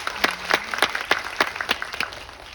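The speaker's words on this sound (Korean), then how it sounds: "여러분 함께 우리 정지영 감독님의 40주년 축하 박수 어떠십니까?" A small cinema audience at a Korean film screening Q&A claps to celebrate director Chung Ji-young's 40th anniversary. The clapping comes as sparse, distinct individual claps in an irregular rhythm, moderately close, with no talk over it.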